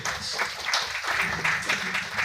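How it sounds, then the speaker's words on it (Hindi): Audience applause in a hall, a steady wash of many hands clapping at moderate loudness, with a few louder bursts, and no talk over it. "एक जोरदार ताली हो जाए सबके लिए"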